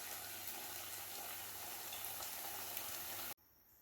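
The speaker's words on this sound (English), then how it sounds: "I'm gonna fry them couple pieces of pumpkin here. Basically like wedges." Flour-coated pumpkin wedges fry in hot oil, giving a steady, dense sizzle that ends abruptly near the close.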